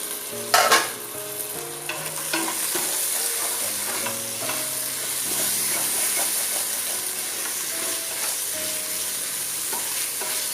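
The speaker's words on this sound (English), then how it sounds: "And now we'll use the lid so that the carrot gets cooked." Chopped carrot cooks in a pan for a dal and wheat breakfast dish, giving a steady sizzle and hiss with scraping stirs throughout and a brief clatter near the start.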